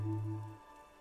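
Steady rain falls in the video game Disco Elysium, a soft, even wash of downpour with a low drone beneath it, with no voices.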